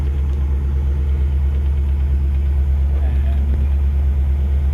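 A 23-year-old Maruti Suzuki Zen idles steadily just after a cold start, its low, even engine rumble close by and unchanging throughout.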